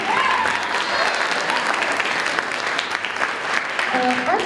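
Audience at a winter choir concert claps enthusiastically, a full, close round of applause with faint tonal sounds and voices mixed in near the start and end.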